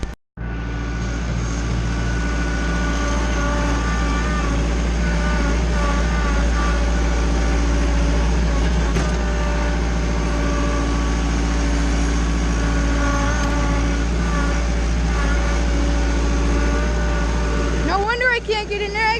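A four-wheel-drive vehicle's engine drones steadily and loudly at close range for the whole stretch, with a deep constant rumble and a slight rise in pitch near the end.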